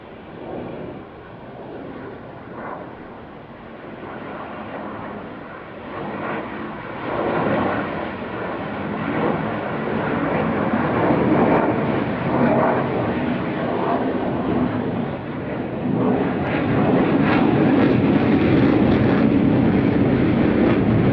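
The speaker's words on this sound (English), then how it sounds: "Noel now once again selecting reheat or afterburner" A Eurofighter Typhoon jet roars past at an airshow with reheat afterburner engaged, a loud broadband rumble that builds steadily and stays heavy for over twenty seconds.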